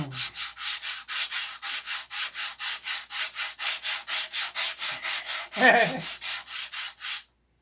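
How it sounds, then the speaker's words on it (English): Steady back-and-forth rasping of sandpaper on wood, about twenty even strokes in a regular rhythm, close and loud, with one brief voice near the end. "What are you doing? I'm sanding."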